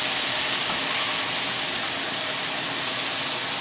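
Chopped oyster mushrooms saute in a pan, producing a loud, steady, close sizzling hiss that holds without a break and with no voices.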